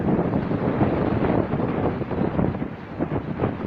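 Strong wind over a rough tropical sea during Tropical Storm Jenny, a steady rushing roar with buffeting gusts hitting the microphone and churning water beneath, continuous and without speech.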